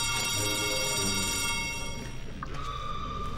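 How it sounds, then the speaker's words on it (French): A cartoon telephone rings with a bright, sustained electronic trill, pausing briefly before ringing again, loud and close with no talk over it. "C'est le téléphone spécial pour l'école de Yak."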